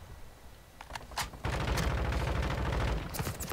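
A video-game sentry gun fires in a rapid, dense burst of shots, starting after a few scattered pops and running on loud and sustained to the end.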